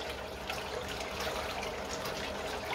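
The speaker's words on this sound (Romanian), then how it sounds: "Deci mai vin acum cu o căldare de asta care are aproape 20 de litri." Nearly 20 litres of water poured from a bucket into a large batch of bee syrup, a steady, rushing, splashing gush that stays even and continuous throughout, with no talk.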